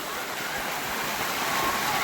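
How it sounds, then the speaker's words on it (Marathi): A waterfall pours down through dense forest at Komnadevi Oxygen Park near Sarde Dam, Uran, a steady, broad rushing roar that holds level throughout with no pauses. "छानपैकी बघा गर्द झाडीतून येणारा धबधबा"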